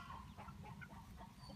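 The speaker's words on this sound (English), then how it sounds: "Oh, they are determined group of chickens." A group of chickens, including a Polish hen, cluck softly in a barnyard near a hay bale. The low, scattered clucks sit in quiet background noise, with no talking.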